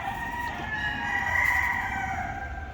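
A rooster belts out one long, loud crow up close among a friend's chickens let out in the morning, the drawn-out call filling the moment over a low background murmur.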